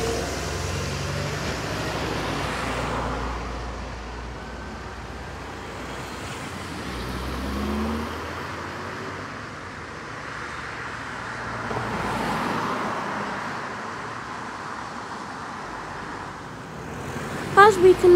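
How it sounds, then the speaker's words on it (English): A Volvo Wright bus in First Bristol colours climbs uphill at Midsomer Norton, its engine a low rumbling drone that swells and fades in waves among general road traffic, with a few sharp knocks at the end. "here is another Volvo Wright bus in the first Bristol colours"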